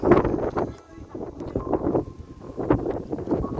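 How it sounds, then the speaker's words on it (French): Gusting wind in the video game Steal a Brainrot, a steady rushing whoosh that swells and fades under someone talking excitedly in French. "Ah, le vent, il est furieux."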